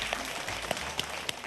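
Faint audience applause at a math lecture on large numbers: a soft, steady wash of many hands clapping at a distance, with a few sharper individual claps standing out, and no talking.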